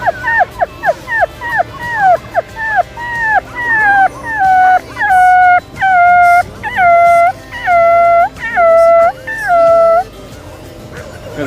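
Angry dogs in the desert in Saudi Arabia bark and howl in a rapid series of yips that turn into long, loud sustained howls, close by and repeated about a dozen times.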